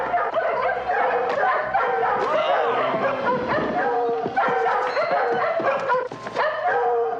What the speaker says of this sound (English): The dogs from earlier in the movie, they decided that they're gonna show up.